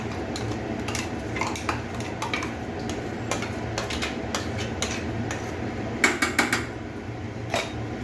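Metal spoon stirring and scraping prawn masala with spices in a pan, a steady clatter with sharper clinks bunched near the end and no talk over it.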